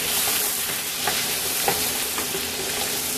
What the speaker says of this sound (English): I'm going to go ahead and put it in the bacon grease. I've got to saute these up for 10 minutes.